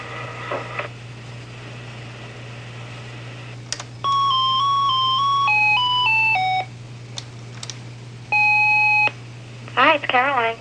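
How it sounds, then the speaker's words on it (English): A telephone answering machine sounds a series of electronic tones, including sustained beeps and a rising warble, against a steady low hum, with brief clicks between them. "Leave a message at the beep."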